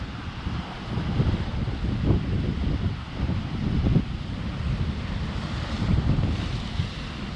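Pacific Ocean surf at Cape Kiwanda, Oregon coast, rumbles steadily with heavy wind buffeting the microphone, waves rolling and crashing loudly and continuously, with no voices.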